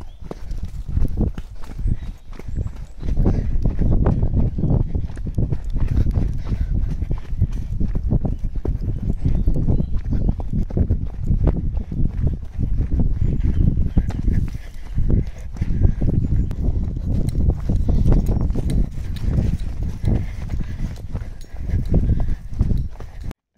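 Steady clip-clop of horse hooves walking on a hard surface, close and continuous, with a regular rhythmic beat throughout.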